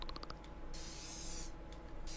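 A spray paint can in a video game gives a couple of short clicks, then two loud, sustained hissing bursts close up, with no talk.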